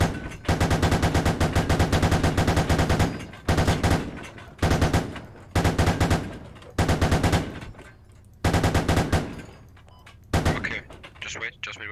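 Gunfire in a squad-based video game shooter, with long sustained automatic bursts broken by short pauses, then a few shorter volleys, loud and close throughout.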